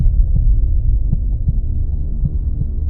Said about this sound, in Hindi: दिल का धड़कना